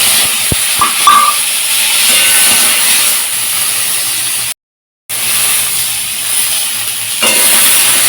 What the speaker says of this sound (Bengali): তো তেলের ওপরে দেখো 5 ফোড়ন দিয়ে দিলাম, দেন কি গরম বাপরে বাপ।